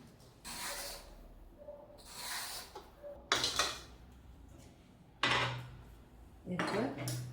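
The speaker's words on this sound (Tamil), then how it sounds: "சுரைக்காய் முதல் தோல் சீக்கலாம்." A bottle gourd is peeled in a kitchen, with a series of scraping, rasping strokes in separate bursts, each a second or so long, close and fairly loud with brief pauses between them.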